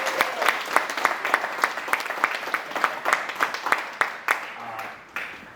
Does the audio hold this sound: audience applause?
yes